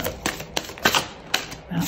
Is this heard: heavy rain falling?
no